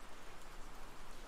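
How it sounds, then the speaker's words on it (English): Rain gathering into a storm falls as a steady, dense hiss of drops, faint and unbroken over a very short moment. "The rain transformed into a storm"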